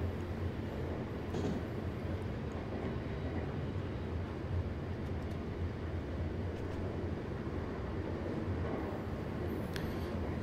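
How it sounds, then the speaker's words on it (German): Train running in Train Simulator 2019, a steady low rumble and rolling drone of a locomotive and wagons, continuous and moderately loud, with a faint brief tonal sound near the end and no talking. "Das ist halt schon eine richtige Eisenbahn hier."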